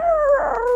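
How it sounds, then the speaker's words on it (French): A husky dog cries and howls like a puppy calling for its mother, one brief, close, loud wavering wail that slides downward in pitch. "c'est des cris d'appel comme le chiot husky comme il appelle sa maman"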